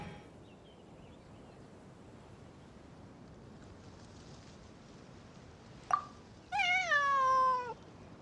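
A single cat in Genshin Impact gives one drawn-out falling meow near the end, clear and close, after a brief sharp click over soft wind and surf.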